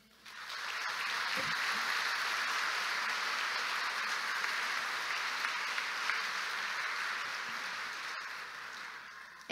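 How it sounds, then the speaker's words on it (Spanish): Sustained applause from a seated audience at an engineers' professional registration ceremony in a hall, a dense, even roar of many hands clapping that holds steady for several seconds before fading slightly at the end. "un aplauso para todos ustedes."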